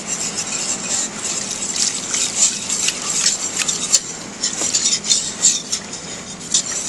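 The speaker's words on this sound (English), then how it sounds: "So I am going to start adding the broth. And you continuously keep stirring so that roux" A whisk or spoon stirs broth into a flour roux in a pot while making velouté sauce, giving a steady scraping, swishing sound with faint liquid sloshing, close and continuous throughout.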